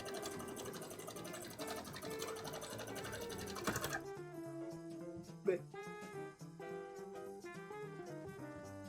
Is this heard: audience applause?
no